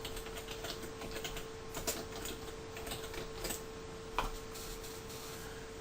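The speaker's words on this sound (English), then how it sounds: "if I wanted to just write text here" A computer keyboard clatters with soft, irregular keystrokes as text is typed, a few sharper taps standing out over a faint steady hum.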